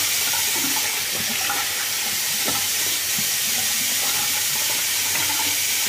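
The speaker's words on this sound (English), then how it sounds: "So that was the hot water rinse." Hot water runs steadily from a tap during a face rinse after shaving, a loud continuous hiss and splash with no talk.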